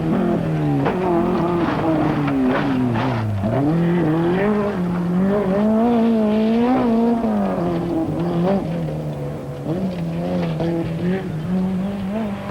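A Citroën Visa rally car, number 10, races along fast gravel stages at the 1986 1000 Pistes rally, its engine revving loud and close with rising and falling pitch through the gears, and tires scrabbling and skidding.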